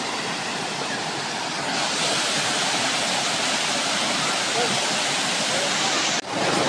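The Kiwai waterfall at a water park roars in a loud, steady, broadband wash of falling water, unbroken for several seconds apart from a brief dip near the end.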